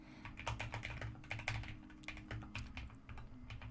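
Rapid clacking keystrokes on a new computer keyboard, close and fairly quiet, in uneven bursts of typing with brief pauses.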